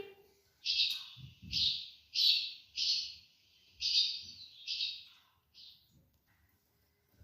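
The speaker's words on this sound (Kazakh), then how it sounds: "Құстардың дыбысы." A series of bright, high chirps repeating in bursts about a second apart, fairly close and clear over quiet background, tapering off at the end.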